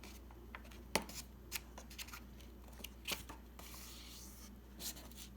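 Sheet of paper being folded in half during a math lesson on lines of symmetry: a few crisp rustles and creases at intervals, close and fairly quiet, with no talking.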